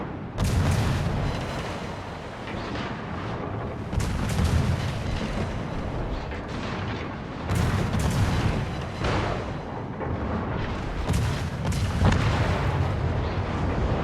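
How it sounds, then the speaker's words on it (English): Naval guns in World of Warships fire high-explosive shells in a series of heavy, booming salvos at a steady pace, with deep rumbling blasts repeating every few seconds over continuous battle noise. "So I'm literally outrunning the guns and putting HE into it."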